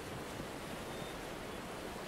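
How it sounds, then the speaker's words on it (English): Water in the video game Miscreated makes a continuous broadband wash, like surf or rushing water, steady and fairly loud with no voices or breaks. "I can hear the water"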